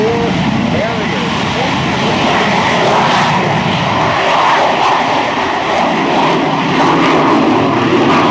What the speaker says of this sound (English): on the roll, here's your United States Marine Corps Harrier.